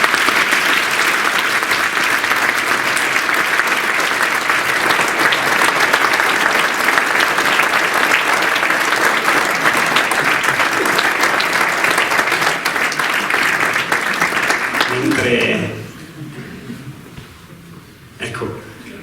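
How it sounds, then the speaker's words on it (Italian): A large audience gives a loud, sustained round of applause as a professor is invited onto the stage at a talk, a dense steady wash of clapping that cuts off and fades into quieter hall noise. "che è il professor Vittorino Andreoli, che invito a salire sul palco e che accoglierei con un applauso."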